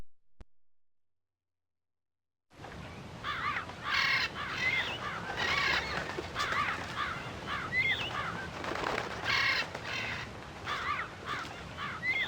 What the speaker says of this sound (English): She scared away the mean crows.